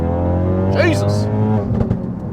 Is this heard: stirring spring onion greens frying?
no